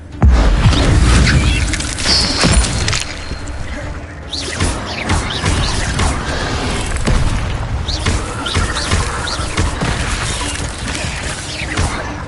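Fire spell blasts cast repeatedly in Hogwarts Legacy on PS5, with a loud booming burst at the start followed by dense crackling, whooshing and thudding combat effects running continuously throughout.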